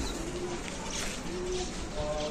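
Low, soft cooing of a pigeon repeats a few times against a steady background hum.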